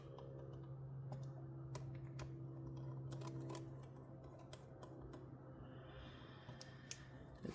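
Small screwdriver turning hinge screws out of a Dell Inspiron 15 3511 laptop, a series of sharp close ticks and clicks over a low steady hum.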